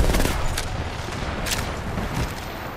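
Rapid gunfire in the battle royale game Apex Legends, a close, loud, continuous stream of shots with sharper cracks scattered through it.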